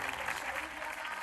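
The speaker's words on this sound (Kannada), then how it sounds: "ಚಪ್ಪಾಳೆ ಮುಖಾಂತರ ವಿದ್ಯಾರ್ಥಿಗಳನ್ನು ಪ್ರೋತ್ಸಾಹಿಸಬೇಕು." A hall full of parents at a school annual day breaks into brief, steady applause for top-scoring students, heard as a faint, dense patter of clapping.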